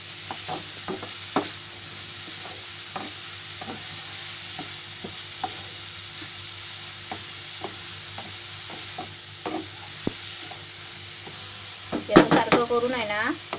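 Grated carrots frying in ghee in a pan for carrot barfi, stirred with regular scraping knocks over a constant sizzle, close by, with a brief burst of louder clatter near the end.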